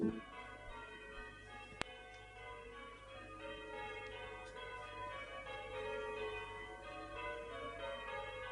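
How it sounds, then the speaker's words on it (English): Church bells ring in a steady, sustained peal, their overlapping tones filling the background at moderate distance with no talk over them. "The church bells have started ringing."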